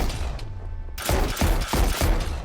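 Heavy ship cannons in the video game Lost Skies let loose a broadside, several loud booming shots in quick succession following a brief lull, each blast thudding up close with a rumbling tail.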